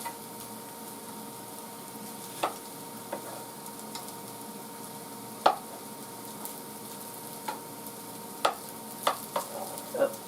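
Diced potatoes frying in a pan give a faint, steady sizzle with a constant hum underneath, broken by a few sharp pops and spits scattered throughout, with no talking.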